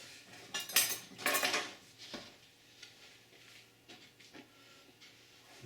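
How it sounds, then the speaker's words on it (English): A utensil scrapes and clinks against a pan while grated cheese is stirred into hot lasagne sauce, a few louder scraping strokes at first, then softer intermittent stirring with no talk. "And then I add the cheese. Just stir it in, and the heat of the sauce will melt it."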